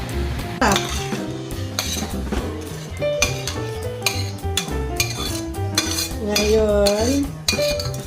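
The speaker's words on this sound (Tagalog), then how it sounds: "Ginisa ko sa olive oil, garlic, onion, salt and pepper lang. Saka yung shrimp." Shrimp sautéing in olive oil with garlic and onion, a steady sizzle broken by repeated scraping and clinking of a utensil against the pan, close and loud with no talking.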